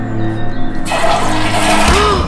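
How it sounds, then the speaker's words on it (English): A portable toilet flushing, a loud sudden rush of water that surges in partway through and continues as a close gurgling swirl. "I didn't realise the flush was so noisy."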